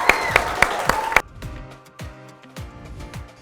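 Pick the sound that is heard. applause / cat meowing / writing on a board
applause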